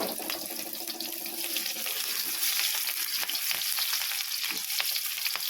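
Garlic frying over a high flame for restaurant-style veg fried rice, a steady broadband sizzle with scattered crackles and spatters, fairly soft but continuous, with no talking.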